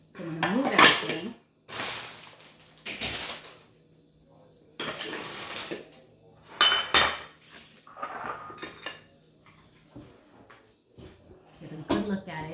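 Pancit canton noodles being stirred and tossed in a pan give bursts of metallic scraping and clinking of utensils against cookware in irregular clusters, while a person talks between and over the sounds.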